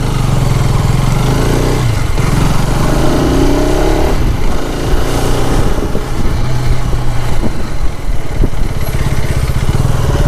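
A 2025 KTM Adventure 250 motorcycle engine runs loud and close, a steady, throbbing idle with slight rises in revs.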